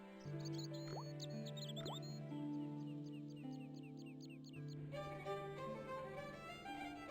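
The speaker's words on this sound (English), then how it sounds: "I shut off the faucet as tight as I could, but it kept on dripping." Slow drips from a tightly shut faucet in the Broken Sword adventure game, a series of distinct plinks falling at a steady pace over a sustained tonal backdrop with birdsong-like chirps.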